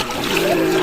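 A child splashes water while bathing in a village pond, a short burst of loose sloshing and splatter close by, fairly loud.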